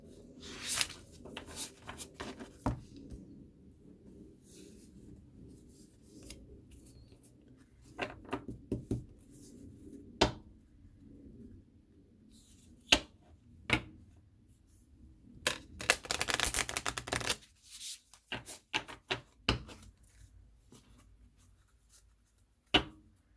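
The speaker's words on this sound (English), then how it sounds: "So I'm going to shuffle." A stiff tarot deck being shuffled in two sections, giving soft scattered riffles and card flicks with quiet pauses between them and a denser burst of shuffling near the end.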